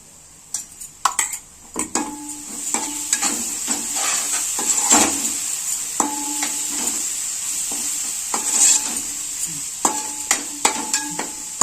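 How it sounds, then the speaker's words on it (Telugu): Onions with chili powder and turmeric frying in a pan for an egg curry, a steady sizzle broken by repeated clinks and scrapes of a spoon stirring against the pan, close and moderately loud. "ఉల్లిపాయలు కారం పసుపు అన్నీ వేస్తాం కదండి, ఇవన్నీ కూడా వేగినాయి"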